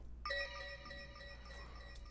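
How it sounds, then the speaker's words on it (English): A bright synth bell strikes once with clear ringing harmonic partials that sustain and slowly fade, quiet and alone over a low background hum. "So we have this intro bell sound."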